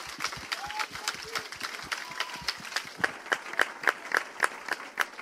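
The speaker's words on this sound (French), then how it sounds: "On peut l'acclamer, oui, il le mérite." A church congregation applauds in a rhythmic, fairly close burst of clapping that grows steadier and more unified toward the end, with a few voices calling out over it.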